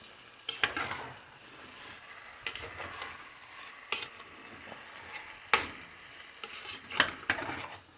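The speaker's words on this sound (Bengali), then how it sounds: "হাই ফ্লেমে মাংসটাকে আমি 5 মিনিট কষবো।" Chicken pieces for Chettinad chicken sear in an already cooked masala on a high flame, with a steady soft sizzle and loud, irregular stirring scrapes and clanks of a utensil against the pan. No one speaks.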